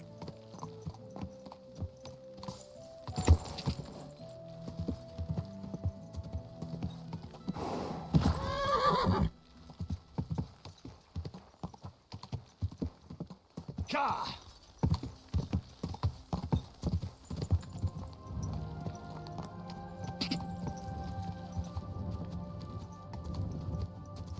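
Rhythmic hoofbeats clop along with a couple of loud whinnies from a horse in the video game Kingdom Come: Deliverance II, set against a busy game background with no speech.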